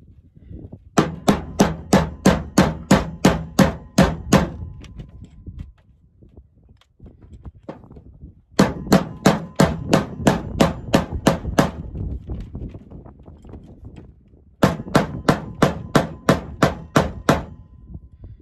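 A small mallet pounds a lead caliber ball down into a test barrel, landing three bursts of rapid, evenly spaced sharp knocks, about a dozen strikes each, loud and close with short pauses between.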